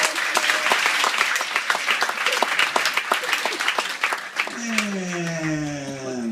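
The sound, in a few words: audience applause at a cruise hypnosis show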